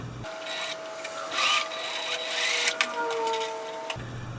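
Sewing machine running a zigzag stitch on a homemade whoopie sling, one continuous steady whirring run of about four seconds, close and alone.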